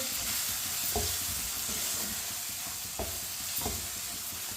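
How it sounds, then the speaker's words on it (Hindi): Red chilli, turmeric, ground cumin and coriander seeds cook over low heat in a pan, giving a steady soft sizzle with occasional spoon knocks and stirring scrapes, close and even, no speech. "कम आंच पे 1 मिनट के लिए मसालों को पका लेंगे"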